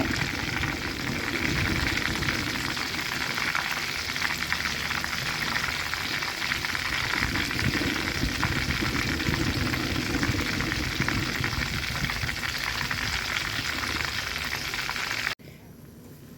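Holy basil sauce is stir-fried in a hot pan to pour over fried snakehead fish. A loud, steady sizzle and crackle runs continuously and then cuts off abruptly near the end.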